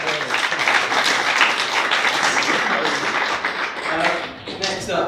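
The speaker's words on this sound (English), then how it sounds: "Give a round of applause for the first man to make the spec." A conference audience at a lightning-talks session breaks into applause, a dense, sustained wash of clapping that carries on for several seconds at a fairly loud, even level.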